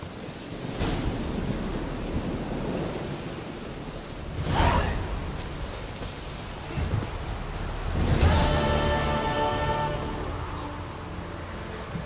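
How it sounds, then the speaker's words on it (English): Steady rain and rumbling thunder from a thunderstorm in The Witcher 3, with two loud thunder swells rolling in mid-clip and near the end over a constant wash of rainfall. "A storm, damn it."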